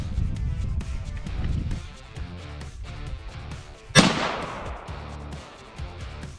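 A World War II style gun is fired at body armor. One sharp, loud shot cracks out partway through, and a low rumbling background runs before and after it.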